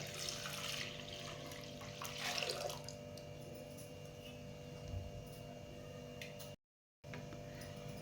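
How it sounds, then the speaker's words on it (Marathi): Water, then a litre of full-fat buffalo milk, is poured into a kadhai for malai barfi, a steady splashing stream over a low kitchen hum that cuts out briefly near the end. "एका कढईमध्ये थोडंसं पाणी टाकून घेऊया आणि यामध्ये एक लिटर आपण दूध घेतलेलं आहे ते ॲड करायचं आहे"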